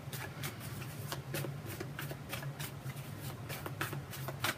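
Tarot cards being shuffled fast during a Virgo career reading, a steady run of crisp riffling flutters and snaps over a low hum, fairly close and unbroken, with no talking.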